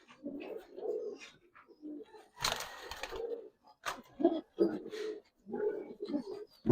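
Silver and Jabra pigeons in a large loft collection give repeated low, throaty coos in short clustered bursts, close by, with a brief rustle of wings or movement partway through.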